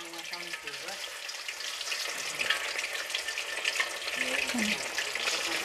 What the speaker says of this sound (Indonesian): ini langsung aku goreng ayam ya ini buat besok tapi kita goreng sekarang